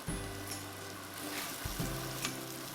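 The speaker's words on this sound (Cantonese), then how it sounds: "將啲撲好粉嘅三文魚放落去，用大概1分鐘到2分鐘嘅時間，將三文魚一面煎到金黃先" Salmon fillets dusted in flour sizzle in a tablespoon of oil in a hot pan over medium-high heat, a steady close crackling fry with a brief burst of fresh spitting partway through.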